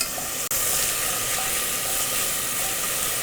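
Lotus root and burdock stir-frying in hot oil, a steady close sizzle that runs unbroken, with one brief dip near the start.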